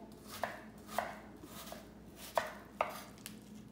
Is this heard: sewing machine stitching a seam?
no